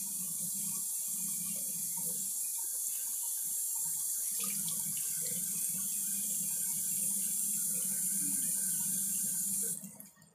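Water runs steadily from a tap into a sink, a soft continuous hiss and splash lasting about ten seconds before it cuts off.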